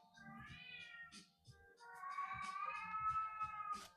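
A deaf house cat meows in long, warbling, song-like calls, two extended cries close to the microphone with a brief pause between them and some faint background clatter.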